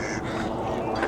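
Ducks, including a pintail, on the water at Burnaby Lake, with a continuous outdoor wash and occasional soft calls blending into the background.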